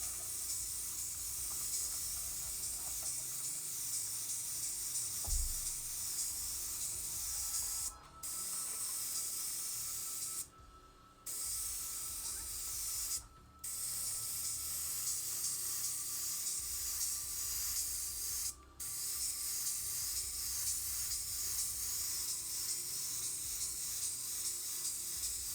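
A spray gun hisses candy paint onto a Harley-Davidson part in long, steady bursts, broken by a few short pauses between passes, close and continuous.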